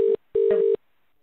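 A British telephone line ringing out, two electronic ring bursts with a short gap, the second longer, then silence; fairly quiet and heard alone.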